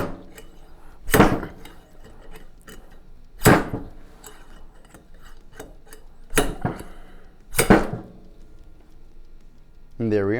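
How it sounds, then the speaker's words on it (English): Four sharp metallic impacts spaced a couple of seconds apart as a slide hammer is yanked to pull a frozen dowel pin, with quiet handling in between and a brief voice at the end. "we're going to give it a couple generous pulls on the slide hammer"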